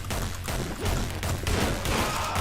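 Rapid bursts of gunfire in a video game, with dense overlapping shots and explosions, loud and continuous throughout with no break.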